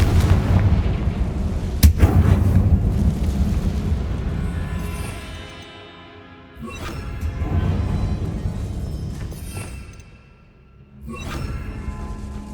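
Confringo fire spell blasts in Hogwarts Legacy sound as deep rumbling, booming impacts with a sharp crack near the start, swelling and fading in waves, loud and up close with no talking.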